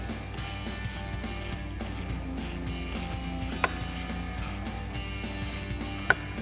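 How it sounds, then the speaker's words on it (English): A ratchet with a 7mm socket loosens a hose clamp on the air intake of a 2021-2024 Ford F-150 5.0L V8, making a steady, close mechanical clicking with two sharp metallic ticks. "So I get a 7mm socket on here to loosen this clamp."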